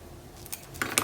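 Scissors snipping paper trimmed for a Stamperia House of Roses craft project, with two quick close cuts near the end of a quiet moment.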